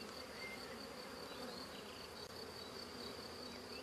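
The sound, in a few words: honey bees buzzing on a beehive frame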